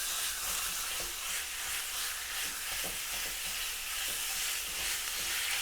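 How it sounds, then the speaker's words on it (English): Beef mince sizzles and fries steadily in a pan with no added fat, a dense continuous hiss with occasional small scraping stirs, close and fairly loud throughout. "I'm just going to put the mince in there, the whole packet of mince, and spread it out a bit."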